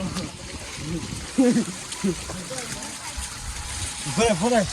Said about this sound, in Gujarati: મસ્ત વરસાદ પડે છે અને પાણી તો બહુ ભરપૂર આવે